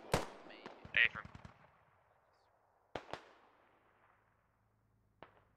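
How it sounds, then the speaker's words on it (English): Gunfire in the military shooter game Squad: a rapid burst of shots, then a pair of sharp cracks a couple of seconds later and one more isolated shot, all with a fading echo between them. "Putting down probably some good suppressing fire"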